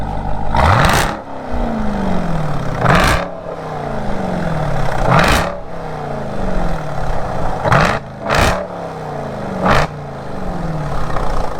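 A Mopar car engine revs hard several times, each sharp, loud climb falling back to a lumpy idle, with about five bursts spaced a couple of seconds apart close by.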